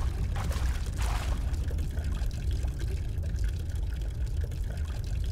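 Water pours and splashes steadily in the horror game Amnesia, a continuous dense rush that holds at an even, fairly loud level throughout with no voices over it.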